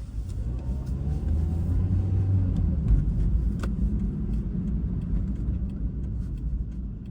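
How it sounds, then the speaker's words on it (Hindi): A car on a food delivery run in Melbourne turns around on the road, a continuous low engine rumble and tyre noise heard from inside the cabin, steady and fairly loud throughout with no voices. "चलो फिर बस चलते हैं, गाड़ी को घुमाते हैं।"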